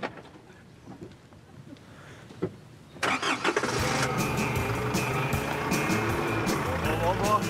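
A car engine cranks and catches about three seconds in, then keeps running loudly at a steady idle to the end, with voices over it.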